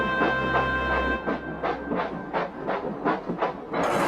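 A locomotive backing onto a brake van in an animation gives a near, regular series of about ten rhythmic chuffs, each roughly a third of a second apart, after a brief low rumble.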